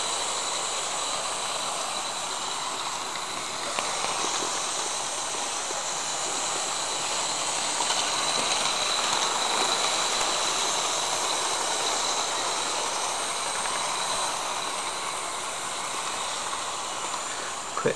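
A steady hissing, rumbling run of a small model steam locomotive with a continuous mechanical whir and faint rhythmic clatter, constant in level without any speech.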